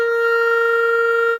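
A single sustained reedy clarinet tone, played with puffed cheeks, holds steady and bright for about a second and a half, then cuts off abruptly, sounding thin and slightly strained.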